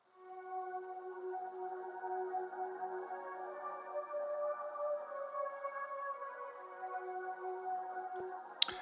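Soft sustained synth pads play a slow chord progression, notes held and overlapping at a quiet level, ending with a brief sharp click.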